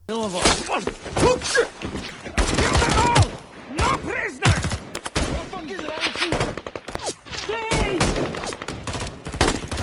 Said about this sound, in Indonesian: Suara tembakan itu terdengar oleh Baker